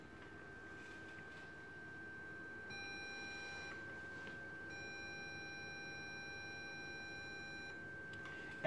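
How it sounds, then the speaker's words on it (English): A short beep followed by a longer beep, Morse code for the letter A from an encoder, clear electronic tones over a quiet background hum. "If I press A on the keyboard, I should hear a short beep followed by a slightly long beep"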